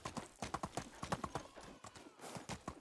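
Rapid, rhythmic clip-clop of horse hooves trotting in the video game Medieval Dynasty, fairly quiet and steady throughout.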